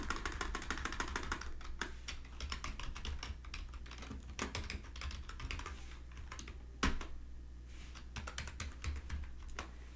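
Steady computer keyboard typing with irregular quick keystrokes over a low background hum, one sharper louder tap near the middle, no voices.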